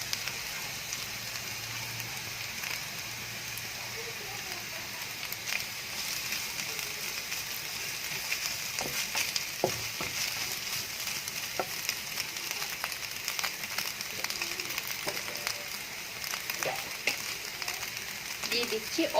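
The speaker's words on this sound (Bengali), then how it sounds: "এখন আমি এর মধ্যে মাংসটা দিয়ে দিব।" Minced meat going into a pan of lightly fried onions, a soft, crackling sizzle at moderate distance with scattered pops and clicks that grow busier toward the end.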